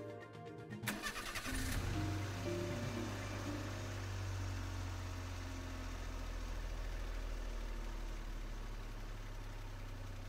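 A car engine starts in a video game after the engine button is pressed: a short burst of starter cranking catches, then settles into a steady low idle that runs on alone.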